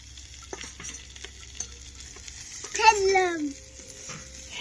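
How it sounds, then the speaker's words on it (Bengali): Bengali pitha rice cakes fry in a pan with a soft, constant sizzle and light stirring taps, while a voice rises briefly over the cooking near the middle. "এভাবেই সব পিঠেগুলো আমি ভেজে নেব।"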